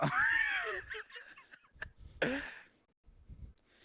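A cat gives two drawn-out, rising-and-falling meows close to the listener, the first loud and long, the second shorter, with a few soft rustles and small noises between them.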